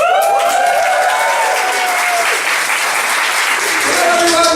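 Loud, dense crowd cheering and applause from a live audience welcoming a stand-up comedy act at a Christmas show, sustained and close throughout with a wash of voices under the clapping.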